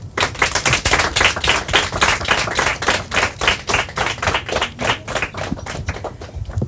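Audience at a Portuguese quiz show clapping, a loud, dense burst of hand claps in a fairly rhythmic patter that carries on for several seconds and fades a little toward the end, with no one speaking.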